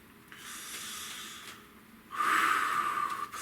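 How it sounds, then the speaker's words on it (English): One deep breath taken during a group tarot reading: a quiet start, then a loud, close, breathy inhale or exhale that lasts over a second near the end. "Nice deep breath, everyone."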